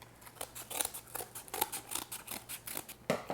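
A round dome of cake for a sea turtle cake being trimmed smaller, heard as a steady run of crisp, close snipping cuts in a quick, even rhythm with no talking.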